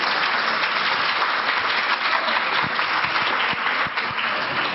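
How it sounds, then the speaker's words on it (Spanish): Loud, dense applause from a conference audience welcoming guests to a keynote lecture, sustained and close throughout with no speech on top. "Recibamos con fuertes aplausos a nuestras invitadas."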